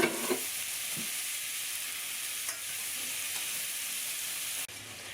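Diced yellow onion and garlic cooking in butter give a soft, steady sizzle with a few faint stirring taps, quiet and close, with no voices.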